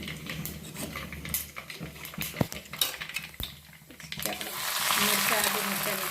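Mustard seeds sizzling and crackling in hot oil for a Gujarati tempering, a steady close frying hiss that builds toward the end, with utensil clinks and some talk mixed in.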